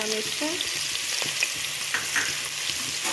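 Onion with cumin and carom seeds fries in a pan for a Punjabi tadka, a dense steady sizzle up close with soft stirring scrapes throughout, and no voices.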